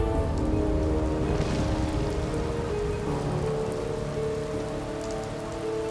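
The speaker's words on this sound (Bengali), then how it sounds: "দমকা হাওয়ায় দোকানের টিনের চালে একটানা ঝমঝম শব্দ হচ্ছে" Heavy rain with gusting wind drums steadily on a shop's tin roof at night, a dense, loud, continuous clatter that never lets up.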